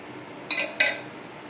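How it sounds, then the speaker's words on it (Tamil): Two quick metallic clinks of a cooking pot being set down on a stove for egg curry ring out close by against a quiet background. "அது மேலே நம்ம பாத்திரம் வச்சுட்டோம்."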